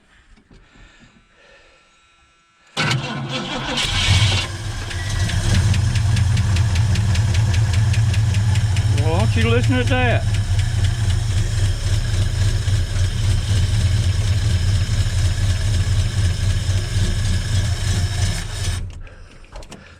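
The engine of a 1981 Ford F100, running on old gas after sitting, cranks and catches, then runs with a loud, rough, knocking idle close by; someone briefly speaks over it.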